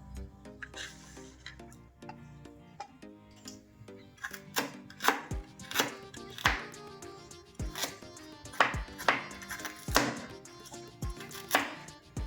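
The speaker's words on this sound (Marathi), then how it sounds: "आता आपण अद्रक बारीक करून घेऊयात" Ginger is finely chopped with a knife on a board, sharp rapid knocks in uneven bursts that grow denser and louder midway, close and alone without speech.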